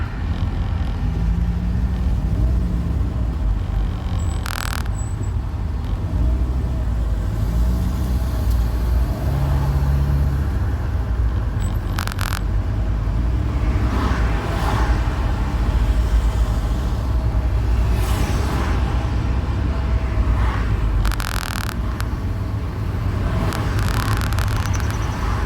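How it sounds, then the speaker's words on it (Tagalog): Steady, loud road traffic on a morning street, cars, trucks and buses rumbling past continuously with a constant engine drone and occasional brief louder swells, no voices. "Mga 9 AM traffic talaga."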